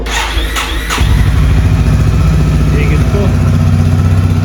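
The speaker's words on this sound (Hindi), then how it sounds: "तो इनको मैं सबसे पहले 2 दिन में कोल्ड स्टार्ट कर देता हूँ। तो आज इसका दिन है" A motorcycle cold-started after two days of sitting: a few brief cranking pulses, then the engine catches and settles into a loud, steady, close-up idle rumble.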